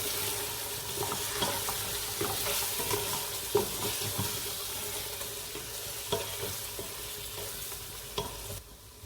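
Meat being fried and stirred with red chilli, salt, turmeric and coriander powder in a pot for Hyderabadi haleem, a steady low sizzle with scattered scraping and stirring knocks, fairly quiet and close.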